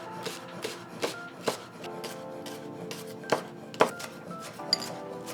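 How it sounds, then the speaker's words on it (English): A knife cuts meat into small pieces on a board while pancit bihon, Filipino noodles, is being prepared. Steady, close chopping sounds in a loose rhythm, with a few sharper knocks and soft scraping in between. "Make sure this one you cut it into smaller pieces, so you don't want big pieces whenever you're sauteing the meat."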